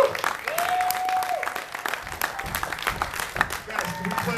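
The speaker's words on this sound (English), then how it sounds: "How about a great round of applause for these great group of guys up here?" A crowd at the NAMM Show in Anaheim applauds a group of musicians, loud continuous clapping and cheering, with a brief sustained tone and voices mixed in.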